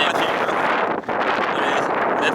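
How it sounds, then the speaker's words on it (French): Wind gusts buffet the microphone outdoors on Belle Île, a steady close rumbling roar with a brief dip midway. "Et il commence à faire froid, le vent. Le vent se lève."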